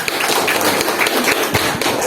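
A classroom of students claps hands together after a teacher's prompt during a religious studies lesson, a dense, steady patter of many claps close by with no talk over it.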